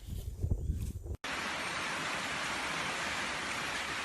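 Steady rain pours down over the Panamanian jungle on a morning, a dense, even hiss that starts abruptly after a brief, quieter opening and holds constant, close and fairly loud, with no one talking.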